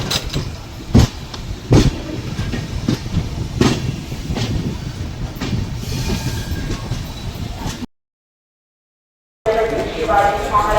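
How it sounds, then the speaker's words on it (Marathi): A passenger train runs from Rajapur Road toward Ratnagiri with a loud continuous rumble and rhythmic wheel clacks. Voices can be heard in the background, and the sound cuts out briefly before resuming. "चला तर आपण पकडू आता ट्रेन आपली ट्रेन सुटलेली आहे"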